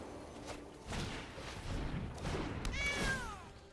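A cat meows from a Sanctuary Cat card played in a Magic: The Gathering video game, a short rising meow near the end over soft game-board thuds and background sounds.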